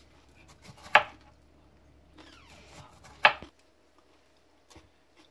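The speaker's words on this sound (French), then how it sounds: "I'm going to slice the tomato." A knife slices through a tomato onto a cutting board, with two sharp, distinct board taps a couple of seconds apart and soft handling sounds between them in a quiet kitchen.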